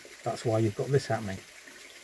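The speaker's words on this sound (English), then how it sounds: "The water is coming down behind the tanks, going underneath this concrete plinth, coming down here and pouring into here." A steady wash of water from a waterfall pours down behind tanks, under a concrete plinth and into a tank in Scotland. It sounds faint beneath someone talking nearby.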